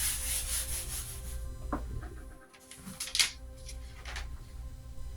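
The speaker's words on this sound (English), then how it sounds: "And if I have to, I'll just do a light sanding." Steady rubbing of light sanding on a gessoed canvas, a continuous soft scratchy hiss with a brief pause in the middle.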